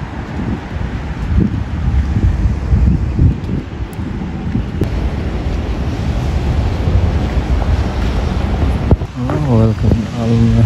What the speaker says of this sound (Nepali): यहाँ यो समुद्रको छेउमा त्यो बस्दा चाहिँ हावा चाहिँ मस्त दामी आउने क्या